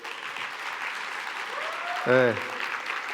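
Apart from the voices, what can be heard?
audience applause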